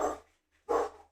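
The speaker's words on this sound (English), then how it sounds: "the dogs are going crazy." Two sharp dog barks, close and fairly loud, separated by a short pause with nothing else audible.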